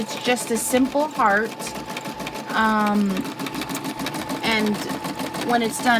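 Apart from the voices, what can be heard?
Brother SE 400 embroidery machine sewing a satin stitch heart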